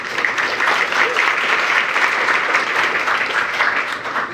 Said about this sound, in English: So just a round of applause for them